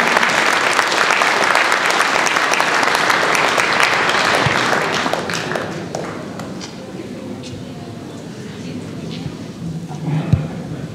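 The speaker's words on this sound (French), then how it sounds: "Et donc je vous remercie d'applaudir Nicolas Gardère, qui symbolise un petit peu cette journée." An audience at a free-speech conference applauds a speaker, with dense clapping that fills the room for about five seconds before thinning into scattered claps and a voice speaking.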